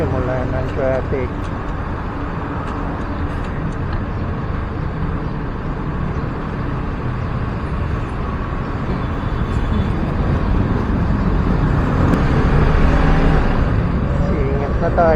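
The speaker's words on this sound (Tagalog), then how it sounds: "Simula ng traffic." Slow road traffic with jeeps hums as a low, steady rumble of engines from inside a vehicle, slowly swelling louder toward the end, with talk over it.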